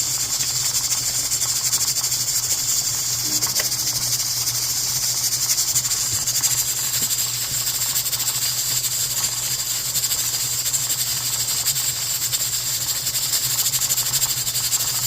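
A pressure canner full of meatballs hisses steadily as its weight rocks fast, giving a loud, constant jet of steam with a low hum under it.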